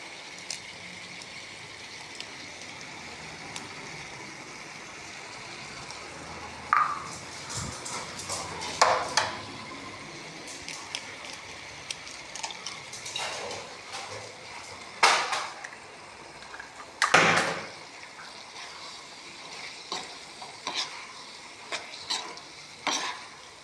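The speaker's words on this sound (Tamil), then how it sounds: "இப்போ நம்ம முட்டை ஊற்றிடலாம்." Eggs are poured into cauliflower masala frying in a pan, giving a steady soft sizzle with scattered stirring scrapes and louder sputtering bursts, close by and without speech.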